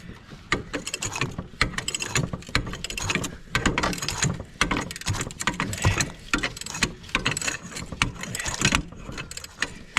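Bolt being tightened on a Honda 200M three-wheeler during chain installation, with rapid clicking ratchet strokes and metallic clatter repeating throughout at close range.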